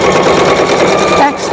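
A sewing machine back stitching while installing a zipper gives a fast, steady mechanical whir with a buzzing texture throughout, close and fairly loud.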